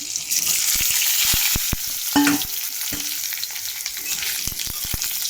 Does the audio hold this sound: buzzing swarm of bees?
no